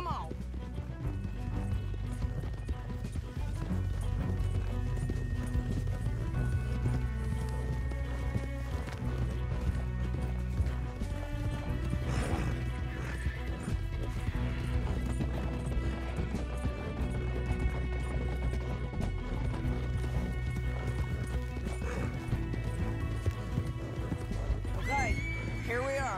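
Horses galloping and neighing in the video game Red Dead Redemption 2, with thudding hoofbeats and whinnies under a musical score and spoken dialogue.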